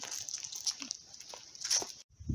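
Dogs snuffling and moving about close by outdoors at a lake, with soft huffs and faint whimpers over a steady high-pitched background hiss.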